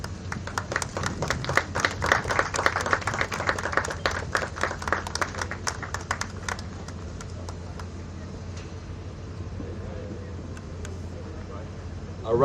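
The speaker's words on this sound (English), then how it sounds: "A round of applause for the international launch of the Philippines participation in Expo 2020 here in Dubai." Crowd applause at the groundbreaking ceremony for the Philippine Pavilion at Expo 2020 Dubai, a burst of clapping from a gathered audience that swells then fades into quieter ambient murmur.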